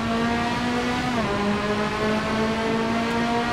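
A Porsche race car in Assetto Corsa at Mugello drones steadily under load, its engine note holding a loud, constant whine with a brief dip mid-way as the revs settle, then pulling on evenly.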